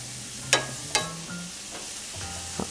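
Onions and garlic sizzle softly in olive oil in a home kitchen pan, a low steady frying hiss broken by a couple of sharp clinks from a utensil.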